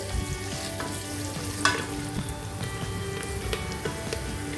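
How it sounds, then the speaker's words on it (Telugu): Sliced onions fry with shahjeera in hot oil for chicken biryani, a dense, even sizzle that crackles softly like rain, close but fairly quiet, with one brief utensil scrape and no voices. "ఉల్లిపాయల్ని మంచి గోల్డెన్ బ్రౌన్ కలర్ వచ్చేంత వరకు ఫ్రై చేసుకోవాలి"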